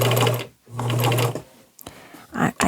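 A domestic sewing machine stitches a side seam on an upcycled fabric project, running in two sustained loud bursts separated by a brief pause, then falling to quieter handling clicks and a short final whir.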